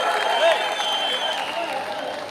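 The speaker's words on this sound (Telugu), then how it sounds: "గట్టిగా చప్పట్లు కొట్టి హర్షాన్ని" Steady, dense applause from an audience at a political meeting with the Andhra Pradesh Chief Minister and minority communities in Guntur, a continuous mass of clapping held at even loudness throughout.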